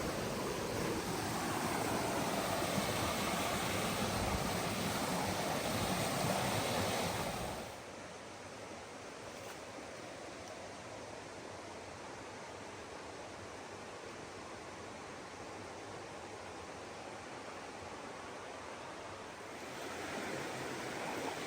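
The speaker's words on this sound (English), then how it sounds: "So I made it to the creek crossing." Creek water rushes steadily at a creek crossing on the Bard Falls hike in North Carolina's Wilson Creek area, a constant broadband roar that drops slightly in level partway through and continues without talk.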